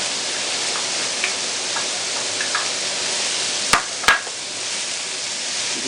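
Paella ingredients, including garlic and firm white fish, frying in a pan with a steady bright hiss and crackle throughout, broken by a couple of sharp clicks near the middle, with no voices.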